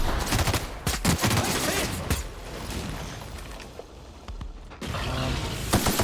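Rapid bursts of gunfire from a gun in the sci-fi video game The Outer Worlds, loud and dense over several seconds, with sharp reports clustered near the start and a thinner, quieter stretch before a final heavy burst.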